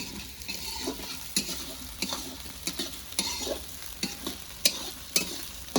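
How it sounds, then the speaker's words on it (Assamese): Spice paste frying in hot oil over a flame while being stirred steadily, a continuous close sizzle broken by repeated sharp scraping clicks of the spoon against the pan, with no talking. "মই এতিয়া পুৰা লাৰি থাকিম।"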